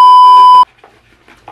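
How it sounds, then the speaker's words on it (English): A loud, steady censor bleep, a pure electronic tone lasting about half a second, cuts off abruptly, followed by faint background sounds. "gonna beep that out"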